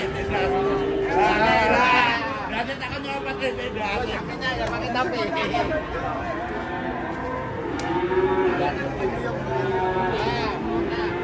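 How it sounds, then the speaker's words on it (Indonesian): A giant cow of nearly one ton lets out a few low moos amid a busy crowd of chattering voices in a noisy outdoor market. "sapi raksasa masuk ke pasar"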